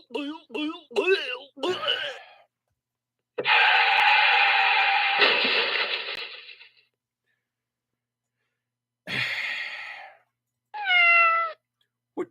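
A quick run of short meows, then a long drawn-out harsh yowl, a pause, another rough cry, and a final clear meow.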